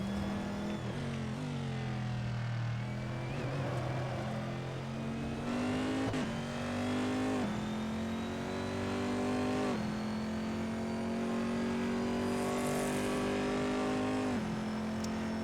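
A Corvette C7R V8 race car engine roars in a sim racing game, climbing through the revs and upshifting repeatedly with loud, sustained drive and no talk.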